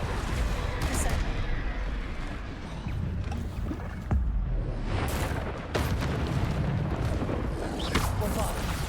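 Booming Bombarda blasting-spell explosions in the video game Hogwarts Legacy, heavy and dense, repeating amid continuous loud combat noise, with spoken spell incantations over them.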